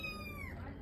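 A little cat gives one short, faint meow that falls in pitch over under a second, with a quiet background.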